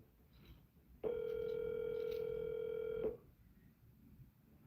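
A phone call ringing out while waiting for someone to pick up: a single steady ringback tone lasting about two seconds over faint background noise.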